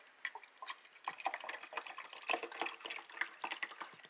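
Water from a 16-ounce bottle pours into the reservoir of an Adirchef personal coffee maker, a close, gentle stream of small splashes and trickles with a slightly uneven rhythm, heard alone.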